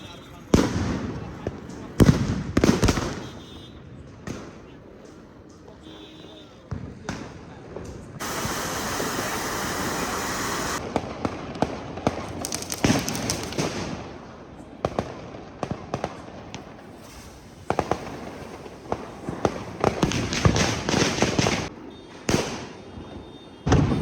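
Diwali firecrackers go off at a family celebration, with a long loud hissing spray from a fountain-type cracker in the middle and scattered sharp bangs and thuds before and after, with some voices in the background.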